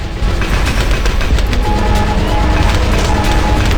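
Towers firing hypersonically fast in Bloons TD Battles, a loud, dense and continuous rattle of rapid attacks with a steady rumbling wash and no pauses.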